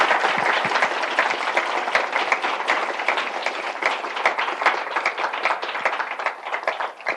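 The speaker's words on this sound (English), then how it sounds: "give Pat and Reed a round of applause for these wonderful answers to that" Steady audience applause fills the room at a panel or discussion event, dense clapping from many hands holding at an even, loud level throughout with no speech over it.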